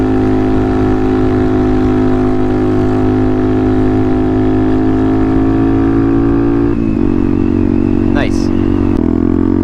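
A Benelli motorcycle engine drones steadily at speed, its pitch holding even before dipping and shifting briefly near the end, loud and close throughout.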